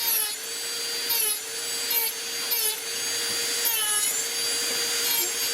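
A Dremel rotary tool with a burr carves a wooden Bigfoot figure, giving a steady high whine close by, broken by repeated short grinding bursts as the bit bites into the wood.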